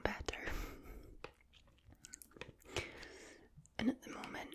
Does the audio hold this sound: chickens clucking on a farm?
no